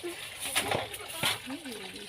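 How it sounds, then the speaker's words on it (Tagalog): Water flows freely and splashes at an outdoor spot, giving a continuous near wash of spatter under people talking over the top. "Free flowing ang water"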